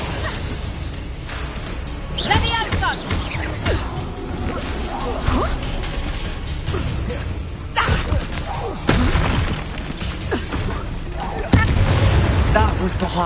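A Confringo fire spell blasting in a video game, with repeated whooshing launches and crashing explosive thuds, loud and punchy amid battle noise while voices talk over it.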